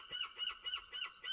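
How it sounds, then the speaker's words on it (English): Seagulls calling one after another in a steady, repeated rhythm on a gusty morning, clear and fairly close with no talking. "The seagulls are out in force as well this morning."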